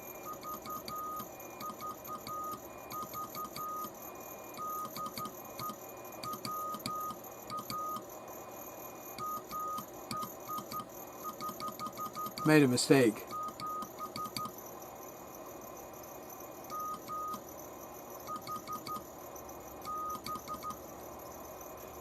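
A PIXIE transmitter keys Morse code as faint, short, intermittent beeps in an uneven on-off rhythm, low in the background, with a brief spoken remark partway through.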